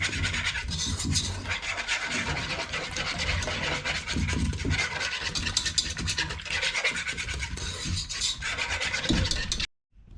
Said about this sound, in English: we're going to whisk it together